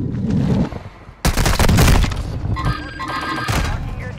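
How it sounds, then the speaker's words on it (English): Gunfire in a video game: loud, abrupt shots crack close by, with one heavy burst after a brief lull and further reports trailing off, all over a dense background din. "I'm getting shot at from H building."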